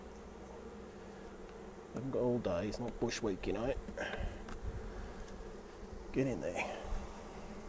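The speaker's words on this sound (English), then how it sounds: "another big pile of bees here" Honeybees from a backyard hive give a steady low buzz throughout, with someone talking over it in bursts close by.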